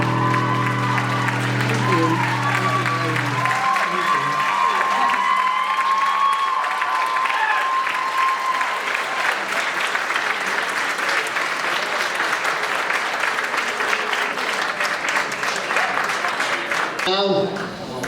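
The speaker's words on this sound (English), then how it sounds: "Big round of applause to Hayley Crosby." Sustained audience applause at the Wexford Rose of Tralee 2022, with a crowd clapping steadily throughout. Music plays at the start and fades as the applause continues, and cheers are scattered over it.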